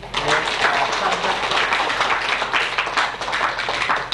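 Audience applause at a church Bible recitation award ceremony: a dense, steady wash of many hands clapping together, fairly loud and sustained throughout without a break.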